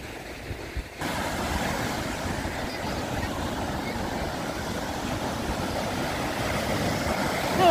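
Steady roar of Mediterranean sea surf breaking close by in Malaga, continuous and loud, with wind buffeting the microphone throughout.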